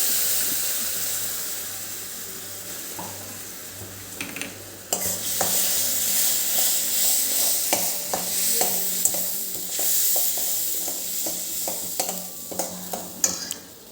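Tomato puree hits hot oil in a pan and sizzles loudly, with a broad steady hiss and repeated scraping strokes of a spoon stirring, close and alone.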